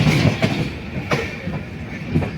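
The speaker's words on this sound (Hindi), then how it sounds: "तो ट्रेन धीरे धीरे पचई रोड स्टेशन पहुंच रही है" A train slowly pulls into Pachhai Road station on the Konkan Railway. Steady loud rumble with rhythmic wheel clatter and a few sharp clanks, no voices.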